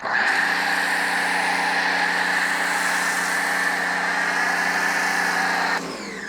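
A pressure washer drives a foam cannon, 1.5 liter against 1.0 liter bottles, in a steady loud whining spray with a droning motor tone, unbroken for about six seconds before cutting back, with no talk over it.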